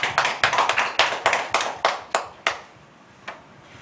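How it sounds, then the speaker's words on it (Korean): A church congregation at a Sunday worship service gives a short burst of applause, a rapid series of sharp handclaps that thins out and stops after a few seconds. "우리에게 은혜 주신 하나님께 영광의 박수 올려드리겠습니다."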